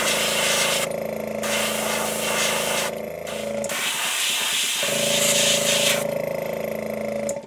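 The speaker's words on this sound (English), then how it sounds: "I'm putting out probably more air than I am paint." An airbrush sprays paint onto a Shad Rap fishing lure, a steady close hiss of air that runs almost the whole time with a couple of brief dips and a short pause near the middle.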